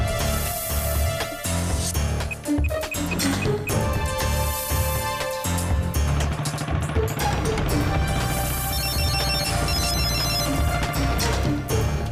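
A phone ringtone rings loudly and continuously through a Tamil TV serial scene. Its tonal pattern repeats over dense background music for about twelve seconds.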